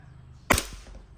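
Two sharp gas-powered shots from a chrome Double Bell 1911 Classic airsoft pistol being chronographed, one loud crack followed quickly by a fainter second pop, close up in a quiet room.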